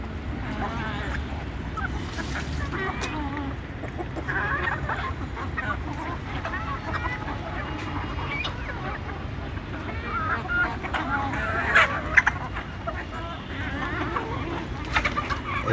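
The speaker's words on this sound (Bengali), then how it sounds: "এইগুলা দেশি মুরগি" Desi chickens feeding in a rooftop garden make scattered soft clucks and fowl calls over a constant low background hum, moderately close and fairly quiet.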